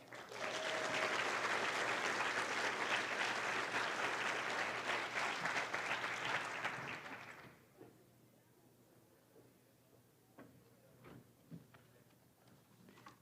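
Audience applause fills a hall at the Alliance for Education community luncheon, a broad, dense roar of clapping that lasts around seven seconds, then drops to scattered claps and quiet room noise.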